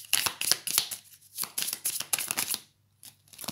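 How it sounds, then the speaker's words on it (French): Tarot cards being handled and turned over at close range, a quick run of crisp papery flicks and snaps with brief pauses between. "Une carte s'est retournée."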